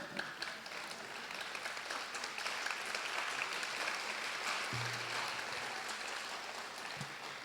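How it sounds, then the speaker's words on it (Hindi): An audience applauds at a stage comedy show in New York, steady clapping that holds at an even level for the whole stretch, with no talk over it. "पुरुषों ने बेकार में ताली बजा दी"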